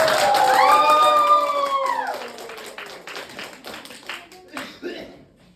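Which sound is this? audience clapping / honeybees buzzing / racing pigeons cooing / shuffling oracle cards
audience clapping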